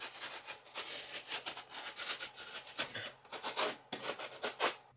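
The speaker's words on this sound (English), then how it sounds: "Gonna back bevel the edges with the knife." A drywall knife back-beveling the cut edges of a drywall patch: close, rhythmic scraping and rasping strokes in quick bursts, fairly quiet, with no talk.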